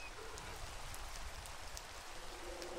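Steady rain falls in the video game Minecraft, a dense, even hiss of drops that runs quietly throughout, with faint talk barely under it.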